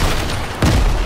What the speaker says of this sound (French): Putain, il envoie des grenades.